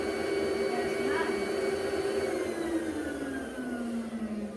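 A Rainbow mini vacuum cleaner runs steadily with a strong motor whine whose pitch slowly sinks over several seconds, close and continuous.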